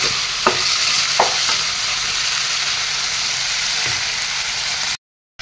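Chicken pieces for a chicken curry stirred and fried in a pan, a steady close sizzle with a few sharp scrapes of the spoon against the metal, running evenly until it cuts off abruptly near the end.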